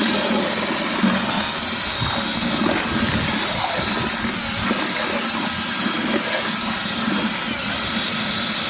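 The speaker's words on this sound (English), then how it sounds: "And this attachment here is for mixing plaster. Got it attached to the drill," Power drill fitted with a plaster-mixing paddle churns torn cardboard and waste paper into pulp, giving a continuous close motor whine over a sloshing, grinding churn that stays steady and loud with no voices.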